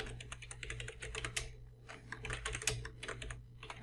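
Someone types a full name on a computer keyboard into a Google Form, producing quiet, rapid clusters of key clicks with a brief pause before the typing resumes.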